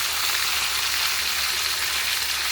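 Onions hitting hot oil in a pan that already holds fried beans, carrots and potatoes give a steady, close, loud sizzle with no break.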